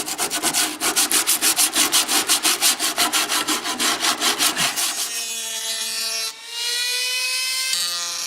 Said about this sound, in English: the hand sanding seems to be the only thing that gets it right along the edge